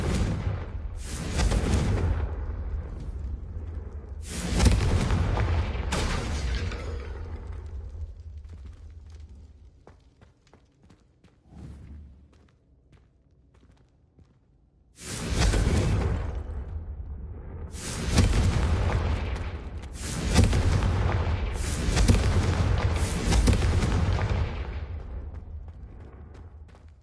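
The Confringo fire spell in a video game goes off in heavy booming blasts, several separate bursts with rumbling tails and quiet gaps between them, loud and with no talk over them.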